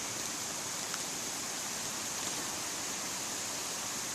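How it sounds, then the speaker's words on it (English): A creek swollen after rain rushes down a mountainside in a steady, full broadband roar that holds unbroken and fairly loud throughout, with no voices. "That is some rushing water."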